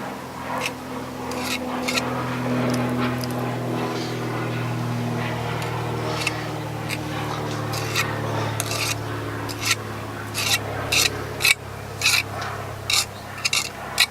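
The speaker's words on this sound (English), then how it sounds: "so you just spread this on your tiles" Tile adhesive spread over storage heater bricks for a tandoor oven build, a steady gritty scraping and rasping close by, later broken into short sharp scrapes, with a low hum underneath.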